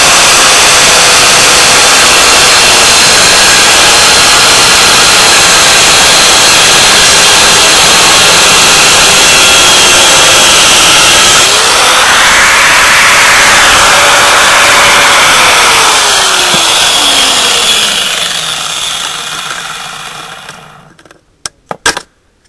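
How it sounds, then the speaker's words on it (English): Angle grinder cutting off the rear axle of an old, busted transaxle, a loud steady whine that shifts in pitch as the cut progresses, then winds down and fades at the end. "So I'm going to cut that off with my grinder."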